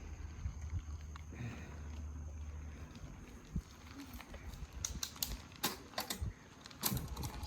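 Bicycle gears being shifted on a ride at Chain O Lakes State Park, heard as a run of sharp, close mechanical clicks and ticks over a soft outdoor background, growing busier toward the end.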